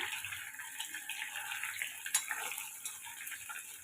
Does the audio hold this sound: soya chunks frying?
yes